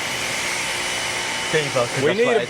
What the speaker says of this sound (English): Listen to that Ryobi whine.